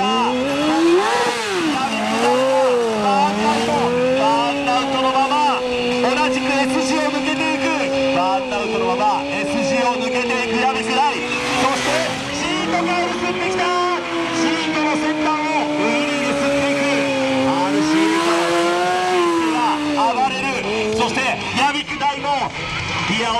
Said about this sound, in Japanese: 全開のドリフト走行、ドリフトで S 字を抜けていく。